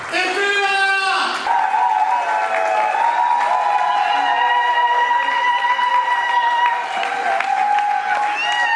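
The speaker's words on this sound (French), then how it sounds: "Elle va pouvoir effectuer son entrée sous vos applaudissements." Applause and cheering from an audience greeting the entrance of an NGO president at a ceremony, steady and loud behind music with sustained tones and voices speaking over it.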